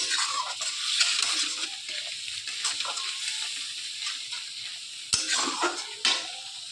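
A spice paste with chilli and cumin powder is stirred and fried in a pan, making a moderate hissing sizzle broken by scraping strokes and a few sharper knocks of the spoon toward the end.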